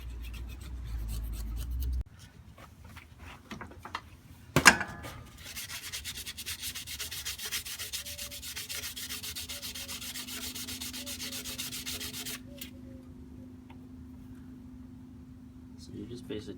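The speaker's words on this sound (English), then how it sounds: "clean off the rest of this gasket." A knife scrapes leftover gasket material off the radiator of a 1995 Jeep Wrangler in a sustained, gritty rasp, close-up, with a sharp knock early on and a faint steady hum underneath.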